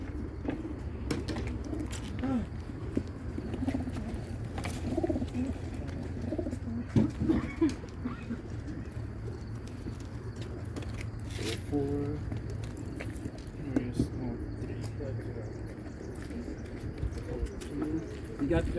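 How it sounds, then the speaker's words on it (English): Racing pigeons coo softly and steadily through a busy loft at a young bird race, with people talking nearby and occasional footsteps and shuffling underneath. "40 ugly birds."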